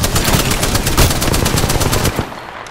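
Spitfire light machine gun from Apex Legends firing a sustained, rapid automatic burst, loud and close, with dense rattling shots for over two seconds before cutting off into a brief quieter tail.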